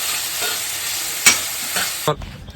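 Cumin tempering sizzles hard in desi ghee, a loud, close, continuous hiss with a couple of spoon clanks before the sizzle abruptly cuts down near the end.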